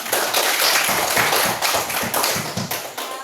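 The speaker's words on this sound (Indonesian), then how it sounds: "tepuk tangan" A classroom of pupils claps together in a short burst of rhythmic, patterned hand claps, fairly close and lively, with no talking over it.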